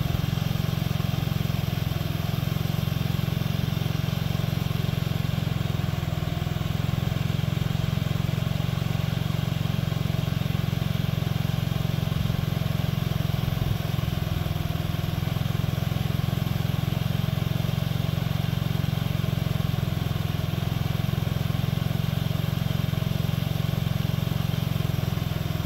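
A Honda Ruckus scooter idles on its first true cold start of the year, giving a steady, close, continuous low engine putter with a constant, unvarying rhythm that keeps running throughout without any revving.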